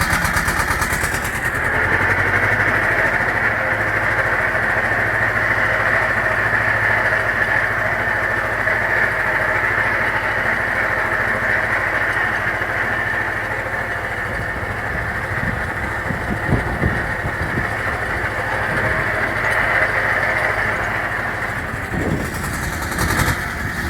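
Tractor engine idling steadily in low first gear with the PTO engaged, driving a homemade organic fertilizer spreader; a continuous, fairly loud drone runs the whole time, with a clatter of the spreader mechanism toward the end.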